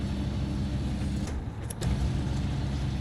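Truck engine in SnowRunner at Black River, a steady low rumbling drone throughout with a couple of faint clicks or rattles in the middle.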